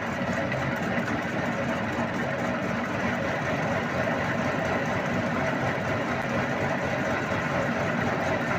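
An engine idles at low revs while driving a homemade household generator built from an asynchronous induction motor, giving a steady, close, continuous low rumble and hum with no speech over it.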